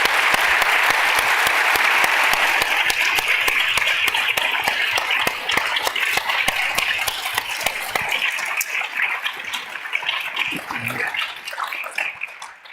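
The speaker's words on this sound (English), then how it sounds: "Let's give a round of applause to Bowman" Sustained audience applause for a speaker at a public health forum on ending gun violence, dense clapping from a crowd that holds strong for several seconds before thinning out and fading.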